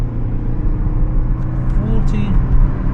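A car accelerates to about 45 miles an hour on a road during a driving lesson, a steady loud engine and road rumble, with a few faint ticks over the hum.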